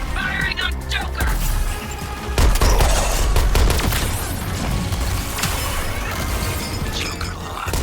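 Gunfire in the video game Suicide Squad: Kill the Justice League, dense rapid volleys with crashes and impacts over a loud, busy backdrop of continuous combat.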